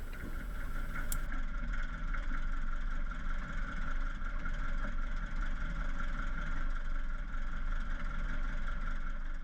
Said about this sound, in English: taxi down the Wrangle Narrows a little ways to the west, warming the engine up